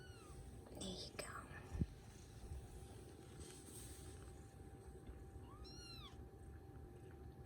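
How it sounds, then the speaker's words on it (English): Balinese kittens mewing with a few short, high, thin cries, faint and intermittent against a quiet indoor background where a person talks softly. "Can't wait for you to meet these kittens."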